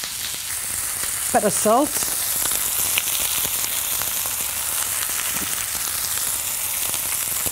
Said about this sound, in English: So in the pan, nice and hot, and then just our leg steak there.